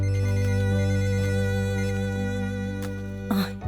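A phone ringtone plays loudly and steadily with sustained electronic tones, ending in a brief rustle as it stops.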